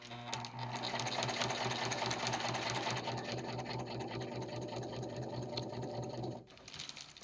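A sewing machine stitches around blackout curtain fabric, its motor humming in a loud, steady mechanical whir with rapid needle chatter for about six seconds before it stops abruptly.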